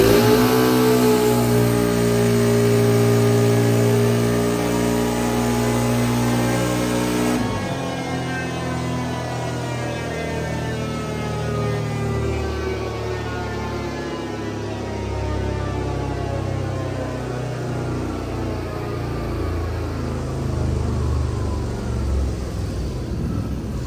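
A CFMOTO engine on a dyno, fitted with stock tires and muffler, revs in a loud, steady pull. Its tone climbs, drops back sharply, then climbs again in a rising drone, close up with no voices.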